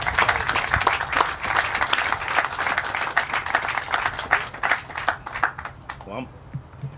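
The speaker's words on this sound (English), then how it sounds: "let's give a round of applause to the next speaker" Audience applause at a groundbreaking ceremony, a dense and steady wash of many hands clapping for several seconds before thinning out and fading near the end.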